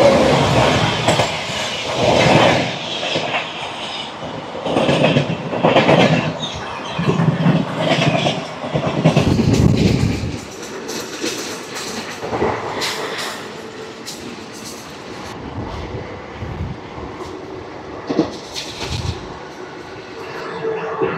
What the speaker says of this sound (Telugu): 12851 Bilaspur junction, MGR Chennai central weekly super fast express.